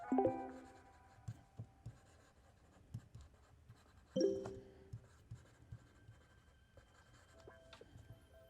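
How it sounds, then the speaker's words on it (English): Pen strokes scratch across the surface of an iFLYTEK AINOTE Air 2 e-ink tablet as a note is handwritten, a quiet run of short scribbling bursts with brief pauses and a couple of faint tonal blips. "I'm going to write up a little note and see how good it does at actually transcribing what I write"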